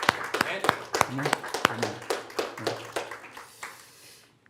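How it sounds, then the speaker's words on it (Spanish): A church congregation claps in praise after a sermon, a run of sharp, irregular hand claps that thins out and fades, with voices saying a word aloud between the claps. "Demos un aplauso al Señor Jesucristo"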